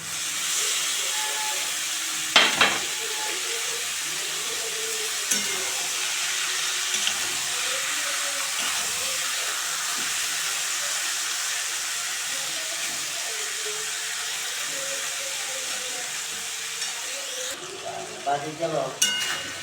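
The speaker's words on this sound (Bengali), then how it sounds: "এখন আমি নুন, হলুদ, তেল দিয়ে মেখে রাখা মোরলা মাছগুলি দিয়ে দিচ্ছি।" Small mourala fish, coated in salt, turmeric and oil, frying with onions in a pan, giving a loud, continuous hiss and sizzle with a few brief stirring clinks, close up and without talk.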